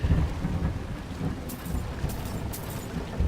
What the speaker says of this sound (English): Ooh, that thunder.